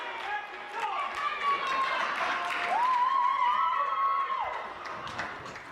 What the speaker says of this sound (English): Roar from the crowd for McCluskey.